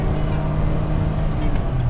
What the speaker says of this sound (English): Accelerates really nicely.